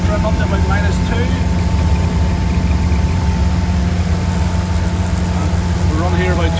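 Volvo Penta D4 260HP diesel engine driving a Doral Monticello boat at about 2,500 RPM: a loud, steady low drone with constant hum and rushing water, unchanging throughout, with someone speaking over it.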